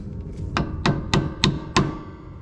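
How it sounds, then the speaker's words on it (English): A hammer strikes a 2022 Toyota Landcruiser V8 VDJ79 rear axle five times in an even rhythm, each blow a sharp metallic clang ringing close up over a low background hum. "I'll get a lot of negative feedback for hitting the axle like that,"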